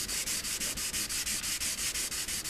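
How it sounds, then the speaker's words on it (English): A soft nail file wet-sands a paint blob out of motorcycle clearcoat in quick, steady back-and-forth strokes, a close, even rasping rhythm of about six strokes per second with no talk. "Now that'll sand right out. And that's where this soft nail file comes in."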